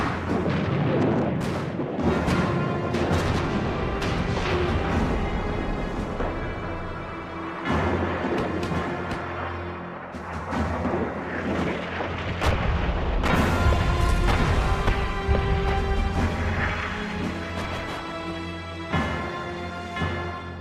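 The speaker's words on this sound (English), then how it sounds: "Over their heads, American guns laid a barrage of shells to soften up the German" Artillery barrage of shells from American guns during a World War I battle against German defences, 1918: continuous loud booms and cracking blasts overlapping in dense, rolling succession with no pauses.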